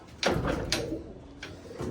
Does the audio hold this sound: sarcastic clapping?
no